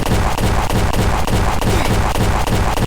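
Rapid automatic shotgun fire in the Prison Life video game, a continuous loud burst of evenly spaced shots in a fast regular rhythm with no pauses.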